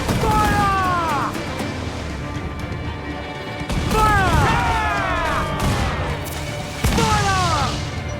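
Three booming cannon volleys from a sailing ship in Assassin's Creed IV Black Flag, spaced a few seconds apart, each a heavy blast under shouted orders and a running musical score.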